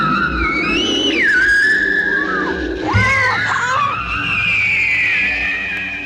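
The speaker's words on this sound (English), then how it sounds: "suddenly they run into the giant screaming spider" Shrill, wavering screams of the giant spider from the 1975 monster film The Giant Spider Invasion, loud and sustained across several seconds with sliding pitch and rough, screechy bursts.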